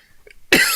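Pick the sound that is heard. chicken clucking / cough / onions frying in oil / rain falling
cough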